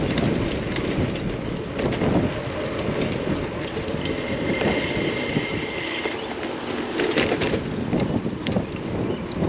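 Steady wind rushing over the microphone while riding a bicycle on a hot 90-degree day, a continuous broadband buffeting roar with gusty swells and no voices.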